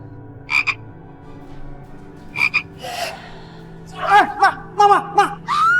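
Frogs croak in short, repeated bursts with pauses between them, fairly close. A low steady hum and faint background sounds continue underneath.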